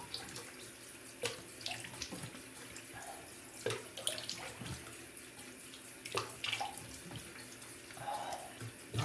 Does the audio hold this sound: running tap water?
yes